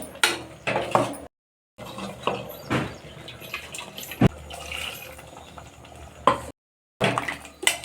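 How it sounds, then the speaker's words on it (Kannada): Water being added to a pan of ridge gourd gravy with ground masala, heard as irregular splashing and trickling pours broken by short silent gaps. "ಇವಾಗ ಇದಕ್ಕೆ ಎಷ್ಟು ಬೇಕೋ ಅಷ್ಟು ನೀರನ್ನ ಹಾಕ್ಕೊಂಡು ಅಡ್ಜಸ್ಟ್ ಮಾಡ್ಕೊಳ್ಳೋಣ."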